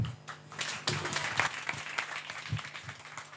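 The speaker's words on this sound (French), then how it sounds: "Alors, on applaudit la candidate numéro 1" Audience applause for contestant number one at a Miss and Mister Eden beauty pageant final, moderately distant clapping that swells and thins in uneven bursts over a few seconds, with some voices underneath.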